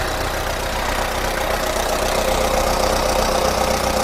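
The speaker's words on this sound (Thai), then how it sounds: "ทีนี้มาดูเครื่องยนต์นะครับ" A Kubota L4508DI diesel tractor engine idles steadily and close, a continuous loud low rumble with an even mechanical chatter and no speech.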